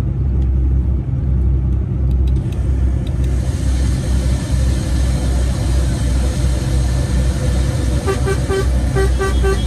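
A heavy truck carrying 21.5 tons climbs a rough uphill road at night in Romania while overtaking an Iveco truck. A loud, steady engine drone and rumble run throughout, with horn-like toots near the end.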